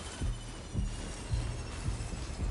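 A heartbeat inside the womb in Death Stranding, slow and muffled, thumping in even double beats about every half second, low and close under a soft hum.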